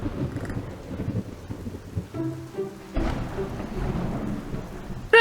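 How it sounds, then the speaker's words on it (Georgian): Heavy rain pours steadily in an animated dinosaur cartoon while thunder rumbles and cracks through the downpour, closing with a sharp loud burst. "რა ძლიერი წვიმა."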